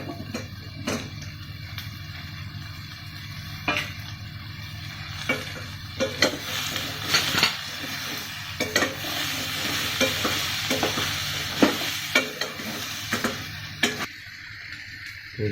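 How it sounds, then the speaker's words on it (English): Vegetables stirred in a frying pan while making instant sambar without dal, with a steady sizzle and repeated scraping stir strokes close by, no talking. "You can add vegetables one by one."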